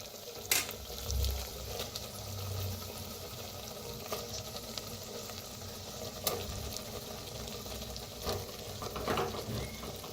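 Brinjal sizzles in masala in a clay pot, a steady low crackle of frying broken by occasional scraping stirs and soft clinks, close and alone.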